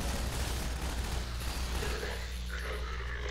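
Automated turrets fire in the Half-Life 2 video game, a loud, dense, unbroken stream of rapid gunfire that barely eases toward the end.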